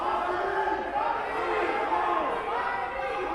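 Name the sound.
crowd at high school wrestling match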